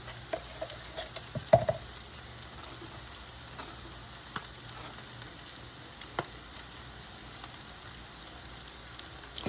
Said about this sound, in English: do y'all see that meat sizzling?